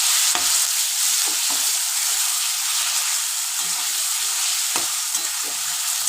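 Chicken frying in a pan, a steady bright sizzle running the whole time with a few soft stirring knocks and scrapes underneath.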